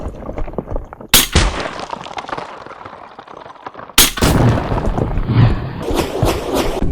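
An air rifle fires at watermelon and fruit targets outdoors, two loud sharp reports with ringing noisy tails under wind.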